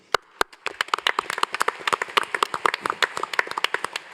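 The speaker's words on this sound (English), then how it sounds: "we should give the partners a round of applause" Scattered hand clapping from a conference audience at a panel on the African Continental Free Trade Agreement, a brisk patter of individual claps that thickens briefly and then thins out, with no voices over it.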